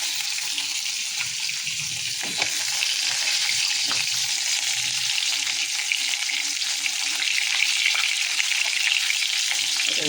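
Fish frying crisply in a pan for an Odia meal with pakhala, a steady broadband sizzle running throughout with occasional brief clatters, close and fairly loud, with no talk.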